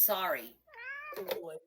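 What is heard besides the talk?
cat meowing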